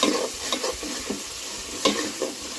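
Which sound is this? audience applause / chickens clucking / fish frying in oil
fish frying in oil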